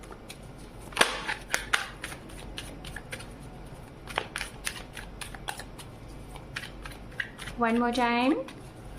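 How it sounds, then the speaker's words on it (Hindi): Tarot cards are shuffled in quick crisp riffling bursts and taps, close and fairly quiet, with a short spoken phrase near the start and a brief voiced sound near the end. "तो चलिए हम कार्ड को करते हैं शफल"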